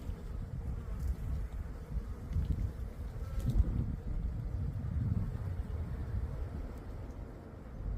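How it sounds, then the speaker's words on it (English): Low, steady humming of many bees working around blooming fruit trees in a town garden, a diffuse drone mixed with ambient town noise and a faint rumble, continuous with no speech. "Just so many bees."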